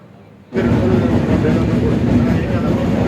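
Inside the moving Panchavati passenger train from Nashik to Mumbai, a steady, loud rumble of the carriage cuts in after a quiet half-second and continues evenly, with faint clattering over the wheels.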